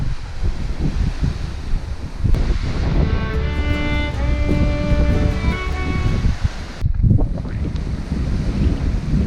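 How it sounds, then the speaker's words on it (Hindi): Wind gusts across the open air at the Welland Canal lift bridge in Niagara-on-the-Lake, a loud, steady rush against the microphone. A long sustained whistle-like tonal sound rises through the middle, with no talking. "इस हवा चल रही है"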